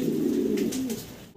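Fancy pigeons give a single soft, throaty coo, close by and fairly clear, lasting about a second.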